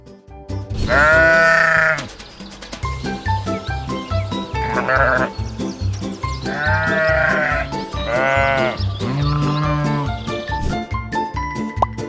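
A sheep bleats several times in separate wavering calls, loud and close, over a steady rhythmic musical backing that runs throughout.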